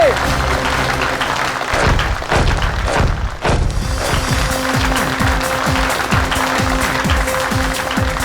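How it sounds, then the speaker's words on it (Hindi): Studio audience applause for a performer on a televised reality-show stage, steady and loud throughout, mixed with a thumping musical beat and sustained tones. "जोरदार तालियां हो जाए फैजल के लिए"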